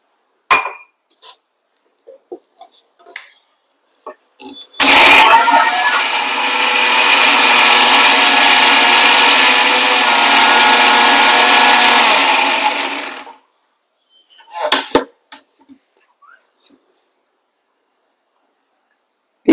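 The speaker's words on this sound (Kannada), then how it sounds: "ರುಬ್ಲಿಕ್ಕೆ ಇದನ್ನ ಮಿಕ್ಸಿ ಜಾರಿಗೆ ಹಾಕೋಣ." A mixer grinder jar whirs loudly and steadily for about eight seconds, grinding soaked urad dal with a little water for chutney, bracketed by short clinks and knocks of the jar and lid before and after.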